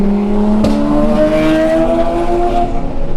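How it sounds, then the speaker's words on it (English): Fast mid-engine Porsche race cars roar past on the Nürburgring, engine tones sweeping and climbing as they go by, loud and close, over steady in-car engine noise. "We got a couple fast MR Porsches that are going to want to get by"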